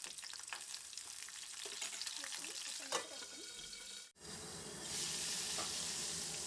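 Dry fish frying in hot oil in a pan for a village-style dry fish curry, a steady close sizzle and crackle throughout, with a brief dip then a louder, brighter hiss of spitting oil.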